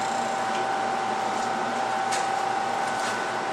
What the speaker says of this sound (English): I'm just boring it out right now at 5/8.